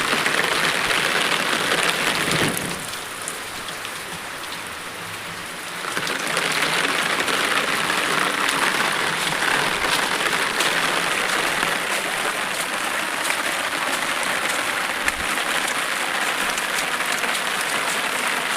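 Heavy rain pours down steadily in a village street with water running, a dense hiss that briefly drops in level before returning at full strength, no talking.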